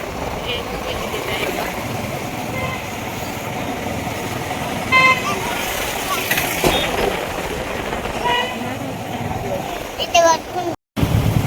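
Busy city road traffic on a rainy day, with several short car horn toots sounding over a steady rumble of engines while people talk nearby.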